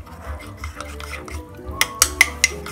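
A utensil stirs a chicken cream sauce thickened with cornstarch in a pot, soft swishing at first, then several sharp metallic clinks against the pot's side toward the end, close by.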